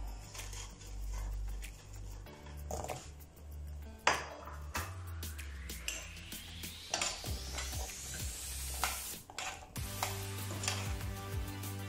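Pieces of yoyo dough frying in hot oil, a quiet continuous sizzle with clinks and scrapes of a utensil against the pan, close up and with no talking.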